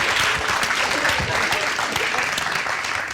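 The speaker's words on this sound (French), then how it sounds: "On va l'applaudir, s'il vous plaît." Audience clapping steadily and densely throughout, a sustained round of applause for a performer named on stage, with no voices on top.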